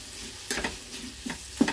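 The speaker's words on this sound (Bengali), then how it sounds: "সবজিগুলো ভাজতে ভাজতেই না নরম হয়ে গেল অনেকটা" Mixed vegetables frying with turmeric in a pan, a steady soft sizzle broken by several louder stirring scrapes, moderately close and alone.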